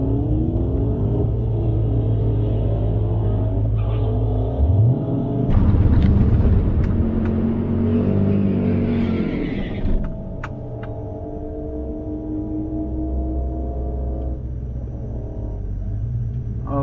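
Two 5.7 Hemi cars, one stock and one modified naturally aspirated, run side by side in a drag race, a loud, steady low engine rumble that swells as they launch and then holds a droning hum through the pass.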